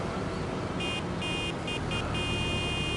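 A vehicle horn in Farming Simulator 25 honks in several short tonal blasts of uneven length over a steady loud engine rumble.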